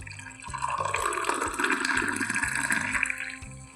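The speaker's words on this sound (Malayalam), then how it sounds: "അപ്പോൾ നമ്മൾ ചായ ഗ്ലാസ്സിലേക്ക് ഊറ്റിയിട്ട് നമുക്ക് ചെറുനാരങ്ങ അതിനകത്തോട്ട് ഒരു കുറച്ച് പിഴിഞ്ഞൊഴിക്കാം" Hibiscus tea poured into a glass, a steady close liquid stream with gurgling splashes running throughout, backed by a faint rhythmic low music beat.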